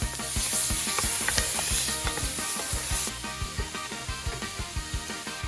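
Cajun trinity vegetables sauté in a pan for crawfish étouffée, a steady close sizzle under a regular clacking rhythm of a utensil stirring and scraping the pan, with no voices.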